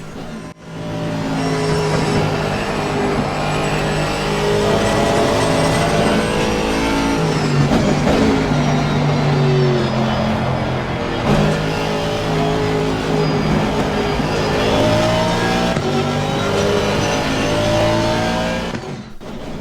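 An Aston Martin race car at Paul Ricard in Assetto Corsa Competizione, its loud engine note rising and falling steadily through gear changes and corners for the whole stretch, alone without talk.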